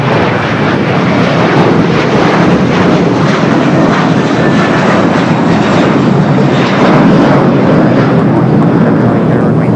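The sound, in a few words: Boeing 747 "Queen" jet departing LAX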